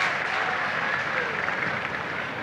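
A cricket crowd in Australia applauds a boundary with a broad, steady wash of clapping throughout, heard from a distance and mixed with a broadcast voice.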